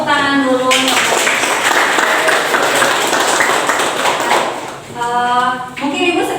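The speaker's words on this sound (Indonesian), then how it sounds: "Tepuk tangan dulu." Audience clapping breaks out at a classroom presentation on sitting posture, a dense burst of many hands lasting several seconds with voices audible at the start and end.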